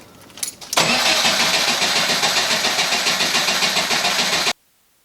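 A Porsche 914 engine cranks briefly, then catches and runs loud and steady for about four seconds with a fast pulsing rhythm before cutting off abruptly into silence.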